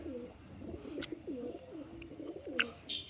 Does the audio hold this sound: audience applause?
no